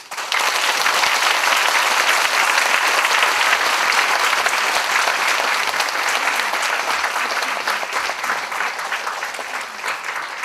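Audience applause after a keynote lecture at a Korean church symposium: sustained, dense clapping from a large seated crowd, steady and loud throughout with no speech, easing only slightly toward the end.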